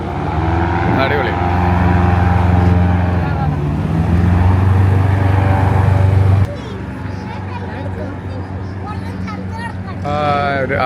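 An Everglades airboat engine runs loud and close with a heavy, steady roar. Its level drops partway through and holds lower, and people talk over it.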